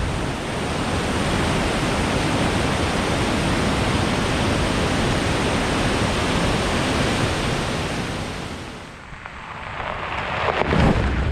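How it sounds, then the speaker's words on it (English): A roadside waterfall in the San Juan National Forest roars as a loud, constant broadband rush, then briefly fades and rumbles near the end, as if the listener moves away from it. "pulled off the road to check out this pretty cool waterfall."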